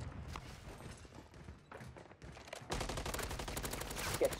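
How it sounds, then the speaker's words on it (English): Gunfire in a Call of Duty video game on Rebirth Island sounds like quiet, scattered shots early on, then a denser run of rapid, distant-sounding automatic fire in the second half. "Why is this kid shooting me?"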